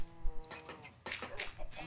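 Minecraft chickens cluck in short, faint bursts over a soft background, with a brief murmur of voices.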